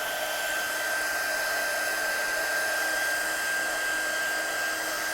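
A hair dryer blows steadily on wet artwork, its whirring motor and rushing air held at an even, loud level throughout with a faint tonal whine and no talking.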